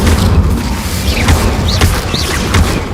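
A fiery Incendio spell blast from Hogwarts Legacy on PS5, a loud close burst with crackling hits layered over dense game music and effects.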